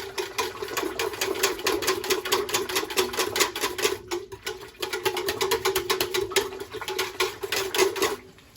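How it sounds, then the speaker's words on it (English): A whisk beating a liquid feminine wash mixture in a container, a fast, steady rhythmic clatter of wire against the vessel, close and continuous with one short pause, no speech. "I should use the whisk again. Whisking everything in."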